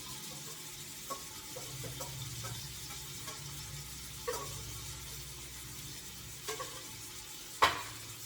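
Onions sizzle quietly in a pan on low heat, a soft, steady crackle with a few isolated clicks and taps from stirring.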